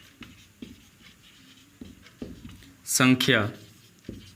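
Chalk or marker scratching on a board during a Hindi chemistry lesson on electrochemistry, with short, repeated strokes tapping out a loose rhythm close by, while a teacher's voice speaks between and over them.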